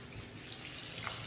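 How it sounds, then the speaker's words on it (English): Tap water runs steadily into a kitchen sink while spinach is washed, a soft, close hiss of flowing water with light splashing throughout the short stretch. "so this is the final wash of the spinach"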